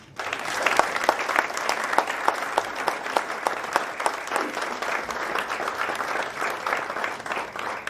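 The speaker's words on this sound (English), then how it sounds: "one round of applause for them" A steady round of applause from a crowd, dense overlapping claps sustained throughout at even loudness.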